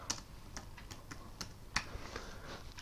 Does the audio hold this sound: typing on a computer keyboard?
yes